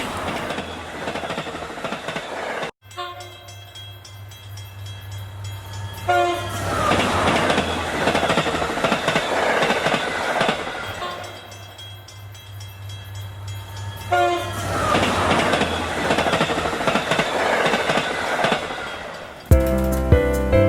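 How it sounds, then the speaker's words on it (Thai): A long freight train in Arizona rumbles steadily past up close, wheels clacking in repeated bursts, with a horn sounding at the start and again near the end. "รถไฟที่นี่ก็จะยาวมาก เป็นรถไฟที่บรรทุกสินค้าที่นำเข้ามาในประเทศ"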